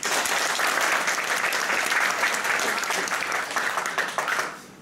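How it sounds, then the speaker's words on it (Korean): Sustained applause from a seated audience at an inauguration ceremony for a Buddhist association's new president, steady clapping for nearly five seconds before fading out. "그동안 수고하신 성승길 회장님 노고에 깊이 감사의 박수를 보내주시기"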